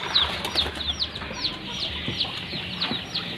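Several young chickens cluck and peep close by, short high chirps repeating over a low murmur of background noise.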